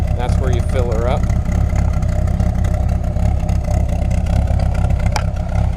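A small MG roadster's engine runs at a steady idle, a low continuous rumble close by, while someone talks over it at the start and a brief higher tone cuts through near the end.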